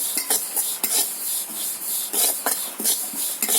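Sesame seeds are stirred in a dry pan with a spatula while being roasted for coconut laddoos, making repeated scraping and rustling strokes with light sizzling crackle in between.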